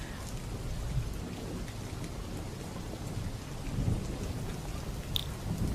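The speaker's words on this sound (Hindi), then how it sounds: "बाहर इतनी बारिश हो रही है ना" Heavy rain pours steadily outdoors with a low rumbling undertone, a dense, even hiss throughout and one brief sharp crack near the end, with no voices.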